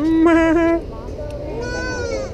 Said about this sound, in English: Oh, it's goat sound.